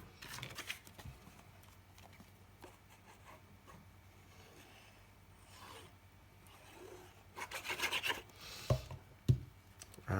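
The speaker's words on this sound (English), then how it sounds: "So these are flat, so I can burnish it down." Paper corners are burnished flat with a tool, producing soft intermittent rasping rubs and scrapes that grow louder and more frequent toward the end, close and quiet.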